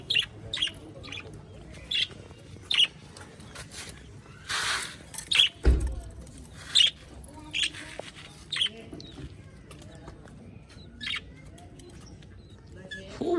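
Australian parrots calling outdoors in repeated short, sharp chirps and squawks spread through the scene, with one louder burst midway and light rustling between calls.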